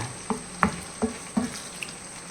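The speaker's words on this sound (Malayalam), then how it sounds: "എണ്ണ തിളച്ച് പൊന്തുന്നാണ്ട." Hot oil bubbling up in a pan while fish pickle is being made, giving four or five soft, separate sizzling pops spaced about every half second over a faint steady hiss, with no talking.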